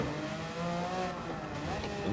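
Race car engine lapping the Daytona road course in Gran Turismo 7, a steady loud drone with layered revving harmonics and shifting pitch, continuous throughout with no talk.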